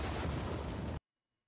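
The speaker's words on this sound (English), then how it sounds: "Oh yeah, the explosion too." A loud, broad explosion from The Book of Boba Fett roars for about a second and then cuts off abruptly into silence.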